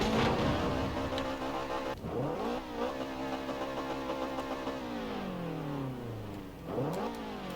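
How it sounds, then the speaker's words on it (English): Car engine in Forza Horizon revs and drops through gear changes, with pitch sweeping down on deceleration and faint crackles at the end, steady and moderately loud. "Let's see if I can actually get some pops here"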